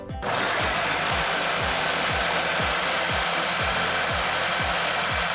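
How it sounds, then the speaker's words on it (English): A blender grinds a dry spice mixture for chicken nuggets, a loud continuous whirring roar with a rhythmic thumping pulse underneath, steady throughout after a quick start, with no talk. "we're going to blend this or grind this up to give us a nice"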